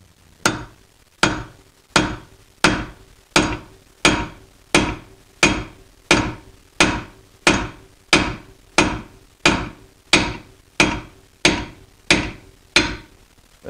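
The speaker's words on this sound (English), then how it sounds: "take your favorite 3-pound mallet and just gently tap" A 3-pound mallet taps an old lug nut threaded onto a wheel stud to drive it out, about sixteen sharp, even metallic knocks roughly once every 0.8 seconds, close and clear with no talking.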